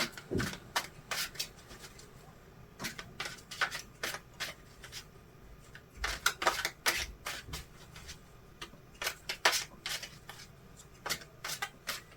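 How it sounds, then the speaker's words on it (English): Tarot cards are shuffled repeatedly in quick riffling bursts, close up, with brief pauses between rounds and no talking. "I'm gonna concentrate for a few moments on shuffling the cards."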